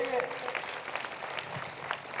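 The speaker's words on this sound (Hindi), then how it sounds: "जोरदार ताली बजाइए परमेश्वर के लिए।" Congregation at a Hindi prayer meeting applauds in a steady, dense patter of many hands, moderately distant and filling the room.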